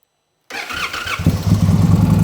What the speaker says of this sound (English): Again, we just turn on the bike.